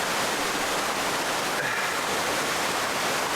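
A waterfall in Tahoe National Forest, California, roars as a steady, dense broadband rush of falling water, loud and close, unbroken for the whole stretch with no voices.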